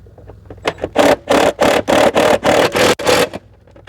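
Impact driver driving bolts into steel on a Lawn-Boy lawn mower with a Kohler XT-650 engine, about six close, loud hammering bursts in quick succession, each roughly a third of a second long.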